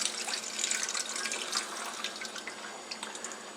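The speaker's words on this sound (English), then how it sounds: "We're just going to drain the water off." Water pours steadily from an opened can into a bowl in a kitchen, a continuous close trickle and splash lasting a few seconds with no talk.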